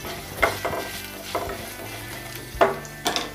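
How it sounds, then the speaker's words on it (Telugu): Chana dal, urad dal and curry leaves fry in hot oil in a pan with green chilies. A steady close sizzle runs throughout, punctuated by a few sharp clicks of a spoon against the pan, with no talking. "ఆ తర్వాత శనగపప్పు, ఆ తర్వాత మినప్పప్పు, కరివేపాకు వేసి వీటిని ఒక 1/2 నిమిషం పాటు ఫ్రై చేసుకుందాం."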